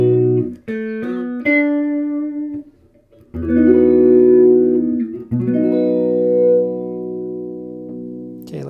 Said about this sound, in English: That's my flanger.